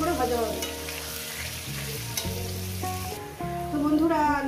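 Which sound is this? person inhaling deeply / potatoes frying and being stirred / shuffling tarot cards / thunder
potatoes frying and being stirred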